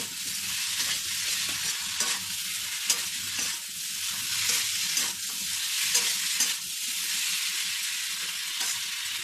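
Potatoes and cauliflower fry with spices in a pan for a fish-roe curry, giving a steady, dense sizzle throughout with occasional stirring scrapes and no voices.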